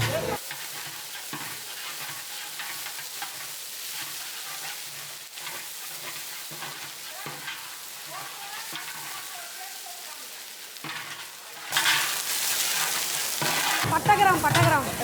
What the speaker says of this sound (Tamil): அதுக்கப்புறம் இஞ்சி பூடு அரைச்சி போடணும்.